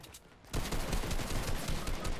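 A rapid burst of gunfire from a weapon in Fortnite, dense overlapping shots forming a loud continuous rattle that starts abruptly after a brief quiet lead-in.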